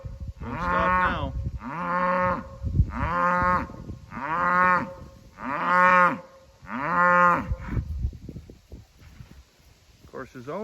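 Cattle moo loudly again and again while being herded across a farm: six long, drawn-out calls in steady succession, close by, then trailing into quieter rustling and movement.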